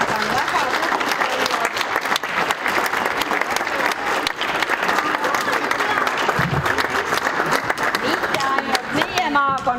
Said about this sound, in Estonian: teeme nendele veel üks kõva aplaus